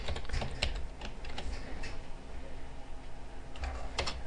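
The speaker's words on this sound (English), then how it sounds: "So I can type a message now" Fingers tap out an email message on a computer keyboard, quick clustered keystrokes close by, pausing midway before a final burst of typing, with no voices.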